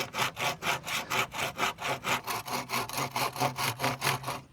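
A hand saw rasps back and forth through wood on a small farm in a fast, even rhythm of about four strokes per second, close and loud.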